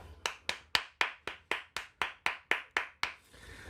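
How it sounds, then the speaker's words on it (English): Audience applause at a talk show, heard as about eleven evenly spaced, crisp single hand claps, fairly close and quiet, in a steady rhythm before fading out. "That audience applause was great."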